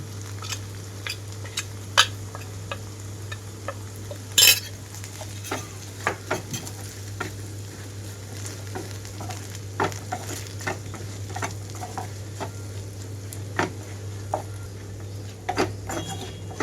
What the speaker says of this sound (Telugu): నేను కారం మొత్తం గ్రైండ్ చేసి పెట్టుకున్న కారం అంతా ఈ ముక్కల్లో కలిపేస్తున్నాను